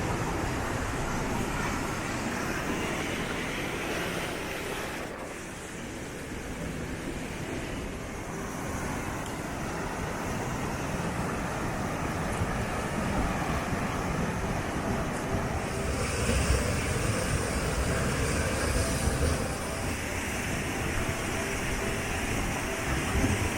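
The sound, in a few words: waterfall in Hetch Hetchy, Yosemite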